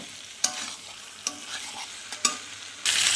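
Pre-fried cauliflower pieces tossed back into a hot pan and stir-fried, with a soft sizzle under several sharp scrapes and knocks of a spatula, then a sudden louder burst of frying near the end.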